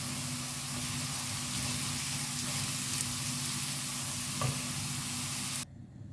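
Onion and minced garlic frying in a pan for meat spaghetti, a steady close sizzle with faint stirring scrapes, running continuously before cutting off near the end.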